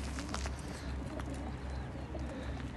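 Racing pigeons coo before their release for a 340 km race stage in Ganja, a low, steady murmur of birds under constant outdoor hum and background noise.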